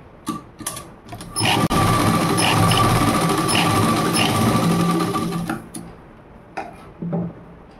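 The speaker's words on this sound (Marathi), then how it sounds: "अशा प्रकारे पलटून घ्यायचे आणि वरून आपल्याला शिलाई मारायची" A sewing machine stitches a prince-cut blouse, running in one steady loud mechanical whir for several seconds, with a few short clicks before and after.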